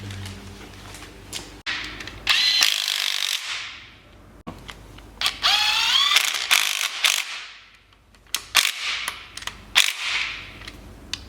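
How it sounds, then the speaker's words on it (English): An air-powered whiz wheel grinds down an edge on a Mustang motor during a teardown, coming in several sharp, high whining bursts separated by pauses, with clicks and mechanical clatter between passes. "I'll probably hook up to the air and take that whiz wheel and just grind it down real quick."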